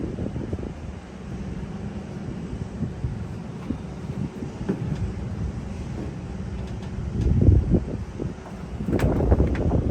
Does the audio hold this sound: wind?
yes